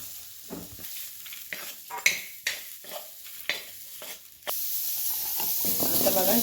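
Sprouted matki beans fried and stirred in a pan: several separate scraping stir strokes over a soft sizzle, then a louder, steady frying hiss near the end, close by with no talking.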